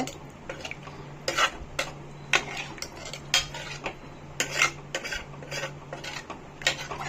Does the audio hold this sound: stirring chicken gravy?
yes